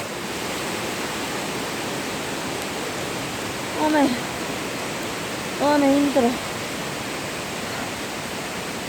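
Steady broadband rush of a mountain waterfall at Jirisan swollen after days of rain, a constant roar filling the scene while a person briefly mutters twice over it.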